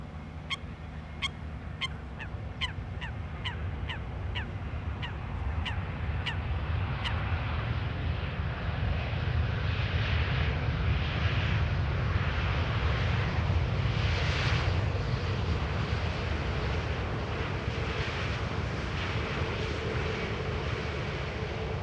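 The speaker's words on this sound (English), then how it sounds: "So this is an EasyJet A320neo arriving from Birmingham." An easyJet Airbus A320neo airliner lands on the Polderbaan runway at Amsterdam Schiphol, its roar swelling into a broad steady rumble that builds and holds, while geese honk in a quick series early on.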